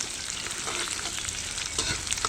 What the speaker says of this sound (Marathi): आणि 2 ते 3 मिनटं आपल्याला ह्याला छान परतून घ्यायचं आहे.